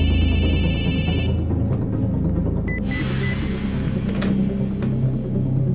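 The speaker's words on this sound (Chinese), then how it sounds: "为什么不接电话？" A telephone rings with a trilling electronic bell for just over a second, then stops, leaving a low steady rumble of background noise.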